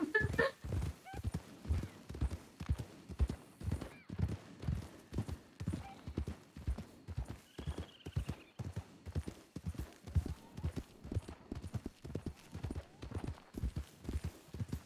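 Hooves clop in a steady, rapid rhythm of a trotting horse in a video game, evenly paced and fairly close, continuing throughout with no one speaking.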